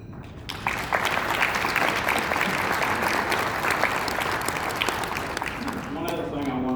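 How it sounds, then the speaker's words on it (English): Audience applause at a banquet, a dense burst of clapping from a large crowd that rises quickly, holds loud and steady for several seconds, then begins to thin out near the end. "give them a round of applause"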